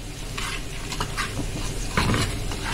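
Garlic and green pepper sizzling in a pan for a home-cooked molokhia garnish, a steady close frying hiss with occasional stirring scrapes and a brief louder clatter, no talking.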